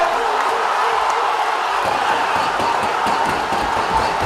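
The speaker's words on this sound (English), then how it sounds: "the crowd has gone wild here at the Sugathadasa Stadium." Football crowd at Sugathadasa Stadium during a Zahira College v St. Patrick's College quarter-final, a loud dense roar of cheering that swells and holds, with a commentator's voice mixed in.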